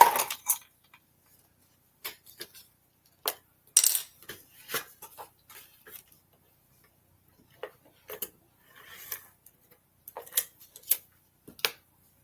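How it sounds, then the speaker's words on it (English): A silicone craft mat and a tape runner are set out on a work surface in a quiet room, giving sparse, light clicks, taps and clatters at irregular intervals with silence between them. "let's get out my silicone mat and let's get out my tape runner"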